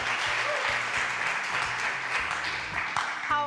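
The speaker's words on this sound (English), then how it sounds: "A round of applause for Omolara." Steady round of applause from a studio audience for a guest cook on a cooking show, continuous clapping over a faint low background hum.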